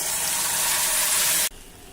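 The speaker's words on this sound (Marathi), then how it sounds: "आवश्यकतेनुसार पाणी घालूया" Water poured into ground urad dal in a pot, a loud steady gushing stream that stops abruptly partway through, followed by quiet room tone.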